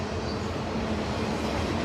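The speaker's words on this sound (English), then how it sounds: "I apologize for the train noise." A loud, steady rumbling roar of a train going by close at hand, heard from outside a 2022 Jayco Jay Flight 33RBTS travel trailer, with no pauses and no voices.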